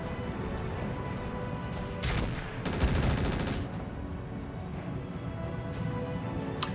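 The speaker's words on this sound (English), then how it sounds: "Firing all weapons." A BattleMech fires its full weapon loadout in a MechWarrior game, a rapid fusillade of machine-gun bursts and heavy impacts swelling for a couple of seconds, then settling into scattered shots amid continuous mech combat noise.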